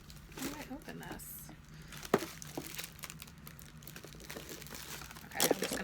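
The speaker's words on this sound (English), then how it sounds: "I'm going to cut the plastic open and show you the device" Plastic packaging around a Nu Skin ageLOC LumiSpa skin cleansing device crinkles and tears in short, close bursts as it is worked open, with a sharper crunch partway through and a louder rustle near the end.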